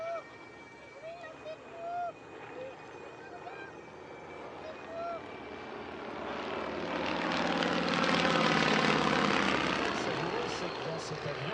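An Avro Anson Mk.I twin-engine aircraft flies a display at La Ferté-Alais, its propeller drone swelling from distant to loud and near in the second half, while someone commentates over it.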